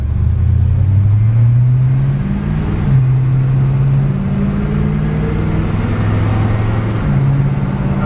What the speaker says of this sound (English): a 1954 Chevrolet 3100 short bed truck. She's got a 350 V8 automatic transmission